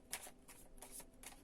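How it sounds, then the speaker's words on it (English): Wheel of the Year tarot cards shuffled in a few quick soft riffles, close but quiet, repeating rhythmically with no voice over them. "we'll just do a final shuffle of the Wheel of the Year Tarot"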